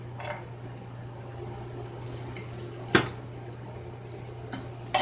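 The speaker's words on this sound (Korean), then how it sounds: "이렇게 기름 있는 쪽으로 마늘을 모아서 약간 지글지글 이렇게 마늘 기름이 나오게 해주세요" Garlic gently sizzles in oil in a pan while making cream pasta, a soft steady crackle with occasional sharp clinks of a utensil against the pan.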